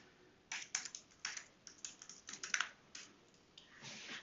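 Keys tapped on a computer keyboard while entering a login password at a terminal, a run of quick, uneven clicks with short pauses, close and clear with no talking.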